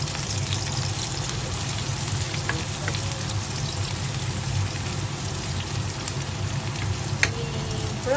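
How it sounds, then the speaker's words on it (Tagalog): Onions fry in a pan for a corned beef with potatoes lunch, giving a continuous close sizzle and crackle with scattered pops and a few light scraping stirs, no talking. "I-brown ng konti para mas mabango guys ang onion."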